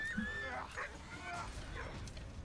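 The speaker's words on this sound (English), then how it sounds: "Oh no, the puppy is stuck." A stuck puppy in the war game Valiant Hearts whimpers and yips in short, high, plaintive cries with brief gaps between them, fairly quiet against a low background.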